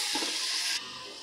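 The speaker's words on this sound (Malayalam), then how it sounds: "ഇതൊന്നുകൂടെ വഴറ്റി കൊടുക്കുക" Onion with ginger garlic paste sautés in a pan for a chicken maqlooba, a steady close hiss and sizzle that suddenly drops to a quieter sizzle partway through.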